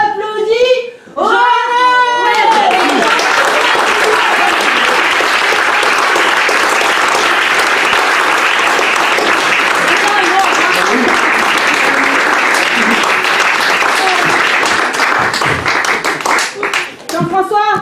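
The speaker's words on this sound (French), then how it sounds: "on applaudit" A studio audience bursts into loud, sustained applause that runs for about fifteen seconds after a brief spoken exchange and then tapers as voices return near the end.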